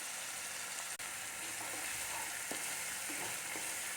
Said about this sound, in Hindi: तेल गरम होने के बाद मैं इसमें कट किया हुआ प्याज डाल दी हूँ। उसको थोड़ा टाइम हम फ्राई कर लेंगे।